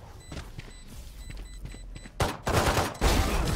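Rapid bursts of automatic gunfire in the tactical shooter Valorant during a ranked match, loud and dense, with fainter shots before a sharp, heavy volley in the second half.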